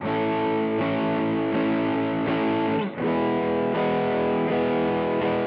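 Heavily distorted electric guitar chugs out a steady rhythm, chords hit evenly with a brief pause midway, loud and close.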